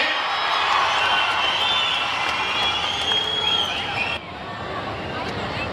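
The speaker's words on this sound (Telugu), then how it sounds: "నెరవేర్చామంటే గట్టిగా చప్పట్లు కొట్టి చెప్పండి అవునని" Large outdoor crowd at a political meeting clapping and cheering, a dense, continuous wash of applause and voices that drops slightly near the end.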